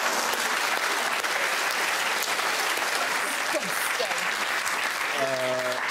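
An audience applauds steadily, a dense continuous clapping that fills the room, with a voice briefly cutting in near the end.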